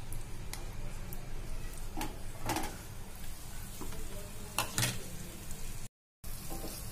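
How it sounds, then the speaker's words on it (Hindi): Khoa sizzling in ghee in a pan while making lauki halwa, a quiet, steady frying hiss with occasional soft clicks and stirring scrapes, heard close up with no talk. "अब इसमें खोआ ऐड करेंगे।"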